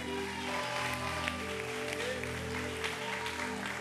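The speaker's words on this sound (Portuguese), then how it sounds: "Vamos aplaudir o Vitão, aleluia." A congregation at a church gathering claps for a young man called up front, sustained crowd applause running the whole stretch over a soft held musical tone beneath.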